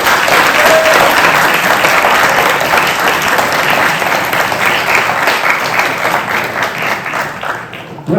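A loud, dense wave of audience applause at the prize-giving of a university eloquence contest: many hands clapping together in a continuous roar, holding strong for most of its length before thinning slightly at the end.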